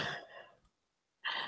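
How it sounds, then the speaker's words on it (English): A single person coughs or clears their throat nearby, a short burst, then near silence, then a second loud burst. "Oh, I hear coughing."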